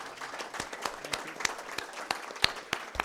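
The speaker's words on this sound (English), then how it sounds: "I'd urge you all to join me in a round of applause for all of them." Scattered applause from a symposium audience honouring the speakers and partners, quiet and thin with a handful of distinct claps standing out rather than a full ovation.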